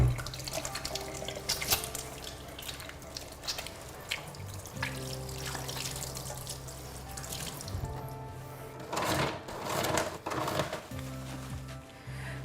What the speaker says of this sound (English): it's really important that you wash your hands before preparing your baby's bottle